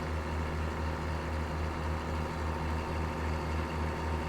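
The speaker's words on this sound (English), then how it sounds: "I still get to hear the sound, the roar and the thud of the engine" A heavy truck engine in American Truck Simulator drones with a steady, deep, loud roar and low rhythmic thud throughout, with no talk.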